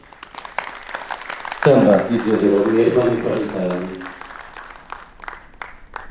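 An audience at the Sikhlens India Film Festival 2020 in Chandigarh breaks into a burst of clapping that swells, then fades over a few seconds, while someone speaks into a microphone over it.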